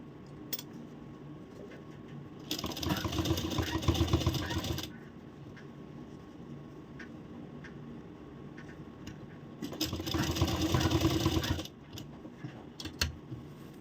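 Sewing machine stitching a blouse, running around a rounded curve in two bursts of steady mechanical whirring with quiet pauses between.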